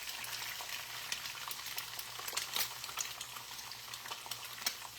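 An egg frying on a breakfast griddle: steady close sizzle and crackle with small popping spatters throughout, no voices.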